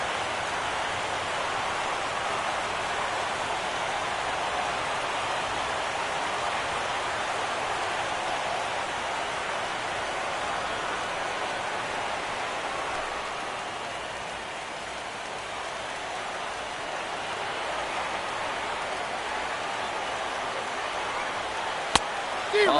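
Steady rain falls during a ballgame in MLB The Show 17, a constant hiss of drops on the surface filling the whole stretch, with a brief sharp click near the end.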